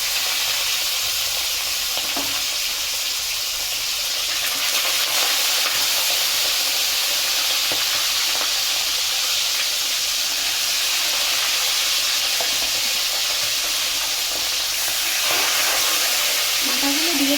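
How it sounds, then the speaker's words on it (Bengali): Fish heads fry in smoking-hot oil, making a loud, continuous sizzle and hiss with occasional stirring clinks, close by and steady throughout. "মাথাগুলো দিয়ে দিলাম, লালচে লালচে করে মাছের মাথাগুলো ভেজে নেব।"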